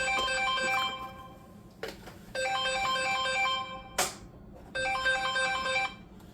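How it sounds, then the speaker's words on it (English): An incoming-call phone ringtone plays in three melodic bursts separated by short pauses, loud and close with no talking over it. "It figures I get a phone call while I'm recording"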